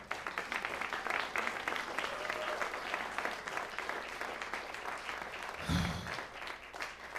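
A concert audience applauds at a tribute show, with steady, moderately distant clapping from a seated crowd and a brief louder thump near the end.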